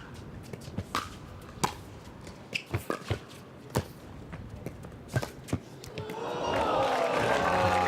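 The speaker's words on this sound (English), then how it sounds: "The crowd applauding that effort out of JW." Sharp paddle-and-ball pops ring out at a pickleball match at Fenway Park under the lights, then a crowd's applause and cheering swells and holds steadily to the end.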